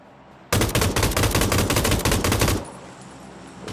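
Light machine gun firing in PUBG, a dense sustained burst of rapid automatic shots lasting about two seconds, loud and close, stopping abruptly, with no talking.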